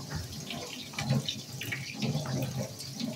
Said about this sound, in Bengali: তো এখানে হাতটা ধুয়ে নিতেছি।